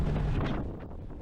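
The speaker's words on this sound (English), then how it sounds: "There's another big gust." A brief, strong gust of wind buffeting the microphone, a loud low roar that eases slightly toward the end.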